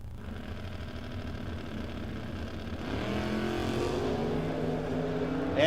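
A 1969 Camaro drag car at a no-box 660 shootout rumbles at idle with a steady throb, then its engine swells louder and rises in pitch as it revs near the end.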